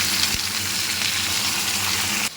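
Chicken and browned onions sizzle loudly in a pan for a dhaba-style curry, with a brief scrape of mixing early on and the frying cut off abruptly near the end.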